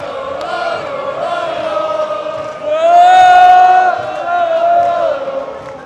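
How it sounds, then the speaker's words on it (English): Belgian football fans yelling and chanting together before a World Cup match against New Zealand in Vancouver, a loud, sustained crowd roar whose pitch swells midway and then settles, voices blending into one drawn-out cheer. "loud, audible yelling, cheering on over here"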